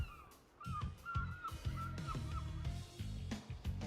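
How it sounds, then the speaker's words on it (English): Seagulls call overhead as a sound effect in the video game Brown Dust 2. Repeated short squawking cries ring out clearly over a steady low background, with no talking. "Only the sound of seagulls can be heard overhead."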